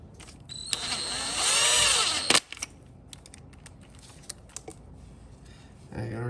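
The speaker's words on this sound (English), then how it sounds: "we're gonna shove this baby in between here, and then we're gonna tighten it down" Tightening down a valve adjuster over a feeler gauge on a Can-Am DS650: a close mechanical whir lasting about two seconds, then a few small clicks and ticks as someone talks.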